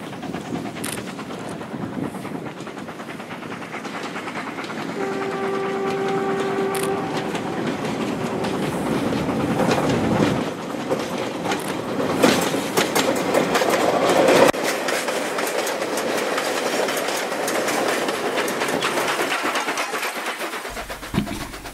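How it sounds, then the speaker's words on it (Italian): A train rolls past nearby at Sandaoling with a loud rumble and rhythmic clatter of wheels on track, a brief horn-like tone early, fading at the end. "l'ultimo treno passa prima che il sole sorga"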